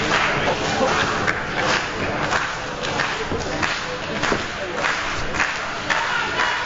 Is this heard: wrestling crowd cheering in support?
yes